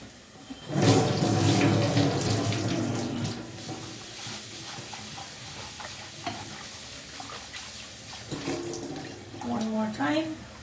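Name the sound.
washing rice in running water from a tap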